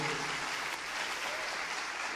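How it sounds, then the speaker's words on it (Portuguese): A crowd at a church service claps together in a dense, steady wash of applause, evenly loud throughout the short stretch. "Aplaudir o Senhor."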